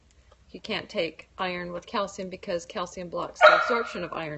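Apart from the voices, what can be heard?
dog barking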